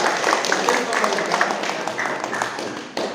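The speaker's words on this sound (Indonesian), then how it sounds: "beri tepuk tangan dulu kelompok 4" Students in a classroom clapping for a presenting group, a close, busy patter of hand claps with individual taps audible, fading slightly near the end.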